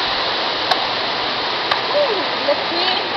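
Steady roaring waterfall on a falls trip, a broadband rush filling the whole clip, with a few faint voices and brief whistle-like calls over the water noise.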